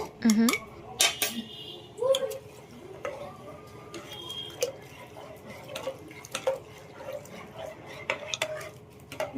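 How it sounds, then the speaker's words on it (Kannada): Spoon clinking and scraping against a bowl while custard is mixed, irregular taps and knocks close by, fairly quiet throughout. "ಗಂಟಿಲ್ದಂಗೆ ಹಿಂಗೆ ಕಲಿಸ್ಕೋಬೇಕು"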